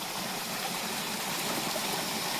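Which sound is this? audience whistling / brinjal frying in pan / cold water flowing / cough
cold water flowing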